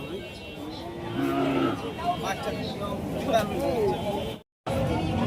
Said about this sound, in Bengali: এই গরুটা নেপালি ক্রস গরু শাহিওয়ালের সাথে নেপাল ক্রস